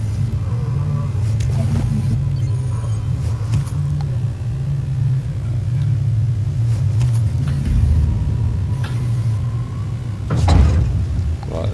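Car engine rumbling steadily while driving in the Dying Light video game, a continuous low drone with a few brief knocks and a louder surge near the end, no voices.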